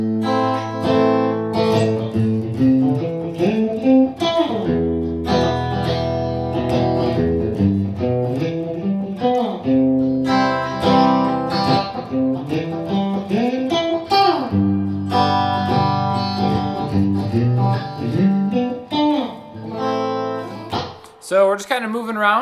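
Guitar example that begins on chords and moves into scales and arpeggios, with plucked notes and strummed clusters in a loose, flowing rhythm, ending in a brief burst of noise.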